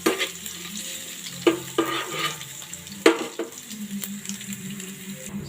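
Garlic sizzling and browning in hot oil in a pan for a Bicolano fish sarciado, a steady fry with several sharp scraping stirs and clinks of a utensil against the pan.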